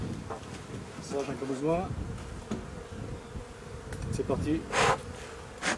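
Honeybees buzz densely around an open hive during a summer honey harvest, a constant near hum with a French-speaking voice talking over it and occasional rustling and clatter of hive equipment.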